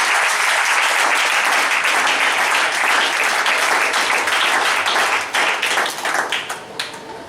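Church congregation applauding in a dense, loud, continuous burst of clapping that thins into scattered claps near the end, close and filling the room.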